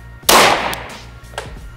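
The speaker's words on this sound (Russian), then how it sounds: "И если готов, производи выстрел." A single sharp gunshot at a practical shooting training session, close and loud with a quick decaying echo, followed by faint shuffling and a smaller click.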